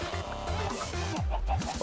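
Chickens cluck in Minecraft, their clipped, repeated clucks faint and blended into steady game background noise, with a low sliding sound near the end and no talking.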